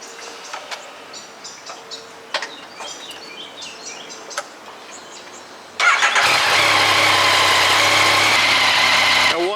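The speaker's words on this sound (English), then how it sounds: "I'll let the bike run a couple of minutes, see if there's anything I haven't tightened correctly" A 2020 Yamaha MT-09 motorcycle engine, just given an oil change and new filter, starts after a stretch of quiet background clicks and birdsong, then settles into a loud, steady close idle.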